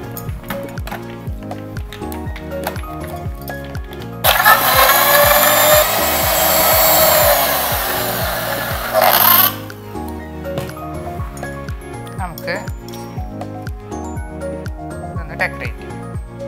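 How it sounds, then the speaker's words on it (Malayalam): A mixer grinder blends milkshake ingredients in a loud, steady whirring burst of about five seconds over background music. "എല്ലാം കൂടി വെറുതെ ഒന്ന് മിക്സ് അടിച്ചെടുക്കാം."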